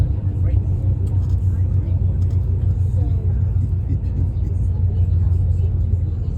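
Cars passing along a city street in Xi'an, a steady rumbling road hum with engines whirring and occasional revving, heard nearby under people talking.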